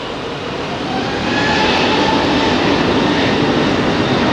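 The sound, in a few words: airliner taking off from Heathrow runway 27R, bound for Funchal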